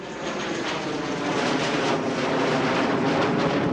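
An F-16 Fighting Falcon fighter jet flies at an air show, a loud sustained roar that builds gradually over almost four seconds, with no voices.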